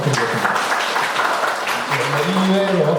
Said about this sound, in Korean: 다시 한번 우리 강사님께 큰 박수 부탁드리겠습니다